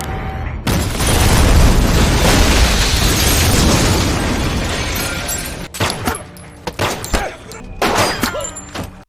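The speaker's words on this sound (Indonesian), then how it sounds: "melanjutkan meledakkan markas Shiro dengan bom" Bomb explosions blow up a base in an action film, a huge sustained blast rumbling for several seconds, followed by a string of sharper bursts and debris crashes.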